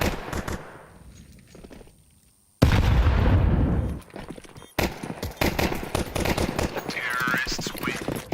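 Pistol shots from a Counter-Strike 2 pistol round at a professional Americas RMR esports match, sharp bursts of gunfire mixed with game effects while a caster talks over much of it.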